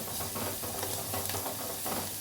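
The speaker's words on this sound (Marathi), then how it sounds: "आता इथे मी एक चमचा लसूण अद्रक पेस्ट टाकणार आहे ते व्यवस्थित मिक्स करून घेते" Garlic-ginger paste being stirred into onions fried to pink in a pan, giving a steady close sizzle and hiss broken by soft scraping stirs.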